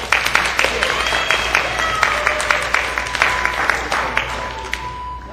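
Audience applause at a Fandemonium convention stage event, steady dense clapping from a crowd lasting throughout, with a voice or two faintly mixed in.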